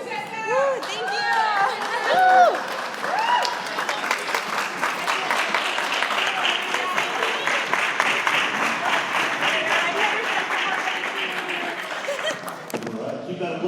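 Wedding guests at the speeches applaud the matron of honor, a dense steady roar of clapping with whoops and cheers layered in, sustained for over twelve seconds before dropping off at the end.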